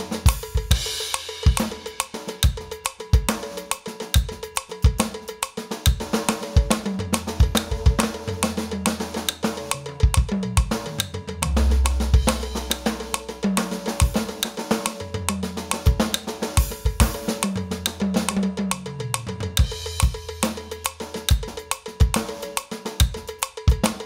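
A drum kit played in steady time to a click, with hits moving across every drum and cymbal; dense, loud strokes fill the whole stretch with no talking.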